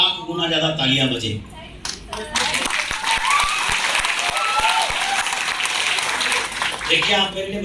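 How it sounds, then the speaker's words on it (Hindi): A seminar audience on direct selling bursts into sustained applause, dense clapping filling the room for several seconds, with a speaker's voice heard at the start and end over it. "आप मेरे लिए तालियां बजा देते, इसके लिए तहे दिल से धन्यवाद।"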